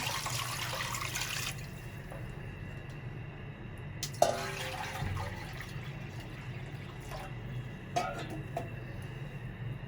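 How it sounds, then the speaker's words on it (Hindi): Water poured into a pot of 1.25 kg of washed mutton for namkeen degi mutton pulao, with a steady rushing pour in the opening seconds and then a quieter, continuous liquid sound. "पहले 1 लीटर पानी डालेंगे।"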